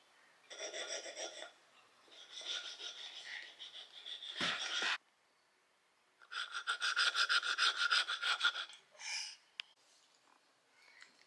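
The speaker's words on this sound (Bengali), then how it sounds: "চন্দন বেটে দাও" Sandalwood being ground into paste on a stone, heard as two long stretches of steady, rhythmic rasping strokes separated by a short pause, fairly close and with no talking.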